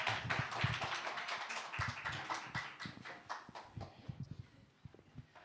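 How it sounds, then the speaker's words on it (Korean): A church congregation at a worship service applauds to welcome the guest pastor, a modest patter of handclaps that starts fairly dense and thins out, quiet and somewhat distant. "박수로 환영하겠습니다."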